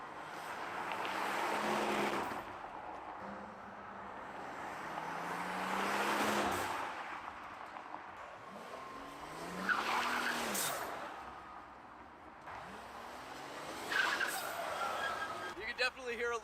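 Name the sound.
turbocharged car revving heard from outside, blow-off valve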